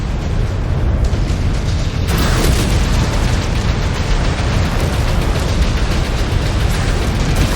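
A missile explosion in the mech combat game MechWarrior 5 Clans, a loud, sustained rumbling blast that keeps roaring at full level throughout, with a sharper burst partway through.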